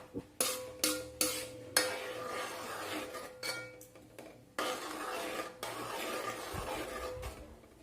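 A spoon clinks and scrapes in a pan as carrot oil heats, with several sharp metallic taps at first, then longer rubbing stirs, close and fairly quiet.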